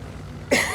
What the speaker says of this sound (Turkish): bugün bir öksürük peyda oldu